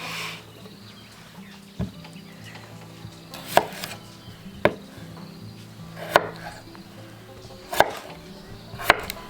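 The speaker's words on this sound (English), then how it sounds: "I am chopping all the other potatoes in large chunks" Sharp knife chops on a board as potatoes are cut, spaced irregularly about once or twice a second, close and clear over a quiet background.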